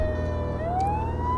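A police car siren in Police Simulator wails loud and steady, its pitch sliding upward over a low engine rumble, with no voices.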